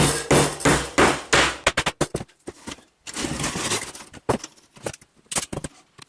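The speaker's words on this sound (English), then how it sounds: "That's why I'm having to hammer them down." Hammer strikes drive staples down into old flooring, a fast run of sharp close blows, then a pause, then more irregular knocks with a few quieter taps between.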